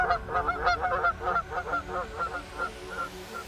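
Geese honk at a distance, a rapid chorus of overlapping calls that gradually thins and fades over a few seconds in open country.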